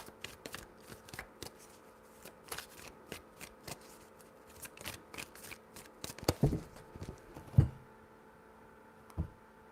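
Hand shuffling of a tarot deck, with soft repeated card flicks and taps at an uneven rhythm, building to a few louder slaps near the end, close and with no talking.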